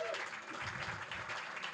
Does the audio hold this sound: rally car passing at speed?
no